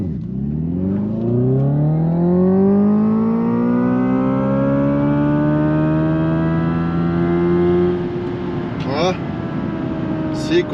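An electric car pulls away and speeds up, its rising whine of motor tones climbing steadily and loudly for several seconds before settling near the end.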